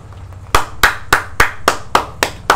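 Eight sharp, loud hand claps in a steady, evenly spaced rhythm, each a crisp, close slap with no talking between them.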